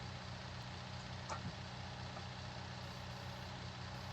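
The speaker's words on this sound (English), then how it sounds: "let's put the key in the ignition and start up the skid steer." Skid steer engine from Farming Simulator 19 running at a steady idle, a constant low rumble throughout with a brief faint click partway, no voices.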